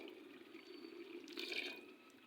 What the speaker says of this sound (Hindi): थोड़ा सा पानी ऐड किया।